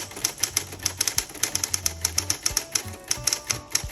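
Typing on a 1970s Coronet Coronomatic XL electric typewriter: a rapid, uneven run of crisp key strikes over a low motor hum, close and clear, with occasional heavier carriage clunks.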